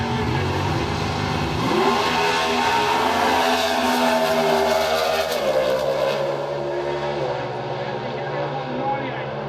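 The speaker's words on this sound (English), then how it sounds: "Have listened to the high revving Chevy engines out here in Super Stock Eliminator" High-revving Chevy engines scream at a Super Stock Eliminator drag race, a loud sustained roar that rises and holds steady under a commentator's voice.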